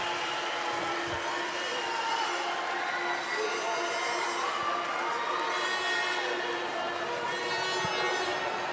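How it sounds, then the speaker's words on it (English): A crowd at a judo match at the 2021 World Judo Championships in Hungary roars continuously with excited cheering, a steady wash of voices and shouts over the arena, with a few faint thumps underneath. "you can hear the crowd, they are going mad"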